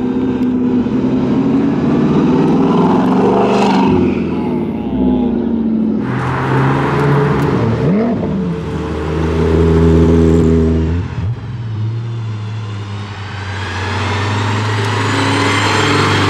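An Aston Martin Valour with a V12 engine and manual gearbox revs loudly and close up, its harmonic engine note climbing and dropping through several sweeps, with no talk over it.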